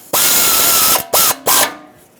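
Power tool tightening exhaust manifold mounting nuts on a 6.4L HEMI Ram 2500: one loud sustained whirring burst, then two short bursts, very close, with no talk.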